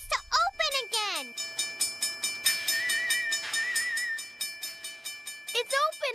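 Cartoon train waits at railway crossing gates: a steady whistle-like tone with a tinkling jingle, with children's voices speaking over it near the start and end.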